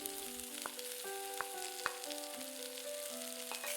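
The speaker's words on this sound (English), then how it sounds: "Cook the pork belly in medium heat for a few minutes to bring out the flavors." Pork belly frying in a pot over medium heat with Sichuan peppercorn and star anise, a steady broadband sizzle with a few sharp pops and light clinks, close and alone with no voices.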